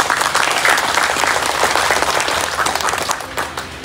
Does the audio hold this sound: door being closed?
no